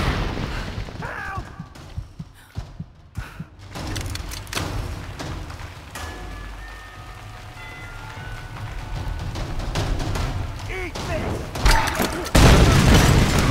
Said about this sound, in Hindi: सबको मैं इससे डायनामाइट से उड़ाऊंगा अब